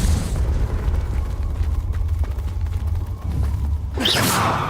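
A Confringo spell explosion in Hogwarts Legacy, a loud rumbling blast with heavy low-end roar, ending in a bright fiery whoosh and burst near the close.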